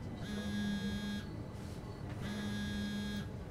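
A phone buzzing in the video game SOMA, two long vibrating buzz-rings about a second each, separated by a short gap, over a steady low background rumble of a subway ride.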